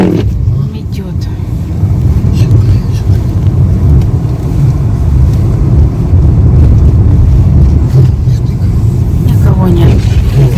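Blustery wind and blowing snow during a winter storm, a steady loud low roar buffeting the microphone throughout, with rustling gusts and faint voices underneath.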